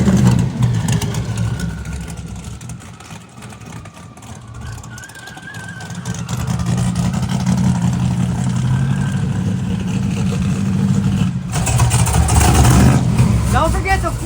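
Dale truck engine running loud and steady through a racing pass, a broad low rumble that swells louder toward the end, with voices talking over it.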